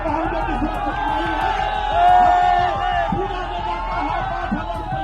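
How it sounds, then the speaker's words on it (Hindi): A large crowd roars and chatters at an outdoor election rally for Madhya Pradesh Chief Minister Mohan Yadav in Bihar, a dense continuous hubbub that swells briefly louder midway. "बिहार में मध्य प्रदेश के मुख्यमंत्री डॉक्टर मोहन यादव की रैली में उमड़ा जन सैलाब"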